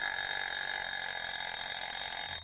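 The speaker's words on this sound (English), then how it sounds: "the kitchen timer went off, the sound of the alarm filling the room with its tone" A kitchen timer alarm rings out in a steady, sustained electronic tone, loud and close, holding unbroken for a couple of seconds before cutting off.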